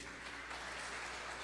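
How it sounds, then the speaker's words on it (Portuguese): A church congregation claps together, a dense, steady wash of applause through the whole short moment. "Vamos aplaudir ao Senhor por isso?"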